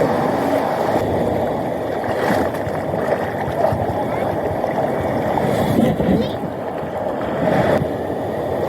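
A fishing boat hauling a salap net moves through choppy sea, giving a steady loud rush of wind and churning water, with voices talking over it.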